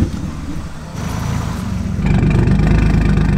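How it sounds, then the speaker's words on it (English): A World Rally car engine running after a start, a steady low idle that rises in level and roughness partway through, close and loud with no talk. "that is the Jay's X all started up."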